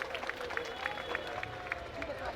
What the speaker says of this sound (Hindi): जोरदार ताली बजाकर स्वागत करो राजा तंबोली जी के